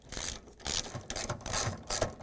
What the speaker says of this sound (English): we're going to use a 3/8 wrench, and we're going to take out 3 bolts here that holds the door